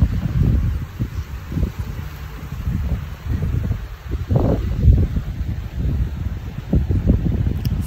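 Strong gusty wind buffets an outdoor spot among beach rocks, roaring in uneven surges close to the microphone, with low rumbling wind noise throughout and no talking.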